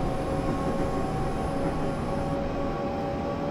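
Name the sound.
train accelerating at full power in Train Simulator, video game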